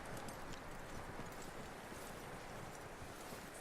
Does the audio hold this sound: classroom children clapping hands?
no